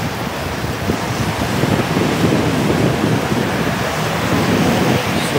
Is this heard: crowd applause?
no